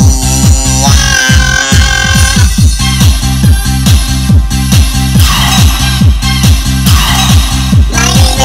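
Dance beat from a Roland G-70 arranger keyboard: a loud, fast, regular four-on-the-floor kick and bass pattern with bright synth layers, pulsing evenly throughout.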